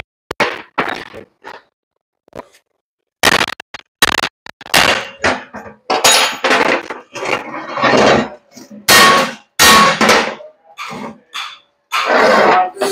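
Metal hammer blows strike a punch against a rear leaf spring pack of a Ford Cargo 1721 truck, sounding as loud, sharp irregular clanks in bursts with short pauses between them.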